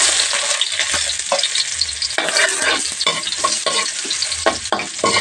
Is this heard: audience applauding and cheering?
no